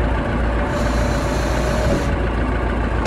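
A bulldozer in a kids' construction vehicle app game lowers its ripper, a loud, continuous mechanical hiss and engine drone with a brief high-pitched whine partway through.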